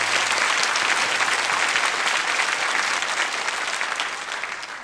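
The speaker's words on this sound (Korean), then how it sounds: "우리 다시 한번 큰 박수로" Sustained applause from a church congregation at a Korean autumn early-morning prayer service, dense and steady throughout before easing slightly near the end, with no talking over it.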